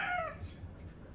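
A chicken gives a loud, drawn-out crowing call at the start, then fades into low background rumble.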